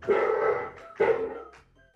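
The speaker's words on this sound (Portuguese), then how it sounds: "Estudante, passa a mão sobre a cartola, que reproduz o som de um cachorro." A toy top hat plays a recorded dog bark when a hand passes over it, giving two loud electronic barks about a second apart, each with a short tail, heard alone in a quiet room.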